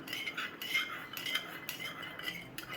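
A metal spoon stirs a spoonful of salt into a few spoonfuls of water in a small bowl, giving quick repeated clinks and scrapes that come close and clear, with no talking.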